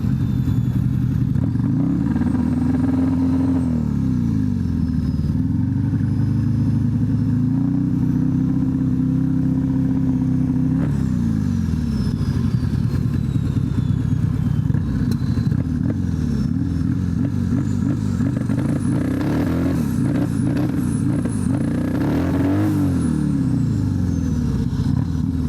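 A 2024 Harley-Davidson CVO ST with a turbo, its engine loud and close, repeatedly revving and then bogging down, with a rough, uneven throttle that rises and sags across the stretch.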